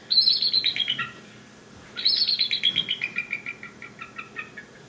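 Eagles call from trees along a lakeshore in two bursts of rapid, high chittering notes, each run descending and fading, clear and moderately close with no talking.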